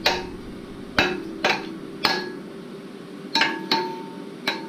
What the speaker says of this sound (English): we'll just hit it with a hammer